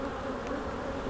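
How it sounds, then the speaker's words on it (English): Nurse honey bees crowd a brood frame of uncapped larvae and eggs, giving a steady, close, continuous buzzing hum that holds level throughout with no voices. "this is pretty much all nurse bees here"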